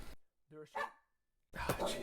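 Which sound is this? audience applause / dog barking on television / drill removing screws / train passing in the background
dog barking on television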